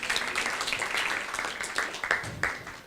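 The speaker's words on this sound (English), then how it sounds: "Give him a nice round of applause for helping out." Conference audience applauding, a dense crowd clapping throughout with sharp individual claps standing out near the end.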